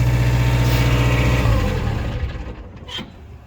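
Diesel engine of a Mitsubishi MXR35 mini excavator running loud and close with a steady idle rumble, then fading and winding down over the last seconds.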